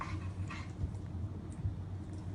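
Dog whimpering softly with a few short yips and barks, faint and intermittent over a low steady background hum.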